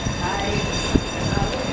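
Trains idling and rolling at a brick-built Babylon Branch station, a steady broad rumble with a brief clank near the middle, heard under nearby chatter.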